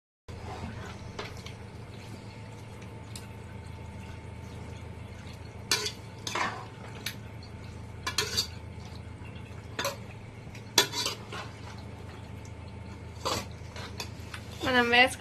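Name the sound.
stirring chicken with spice masalas in a pan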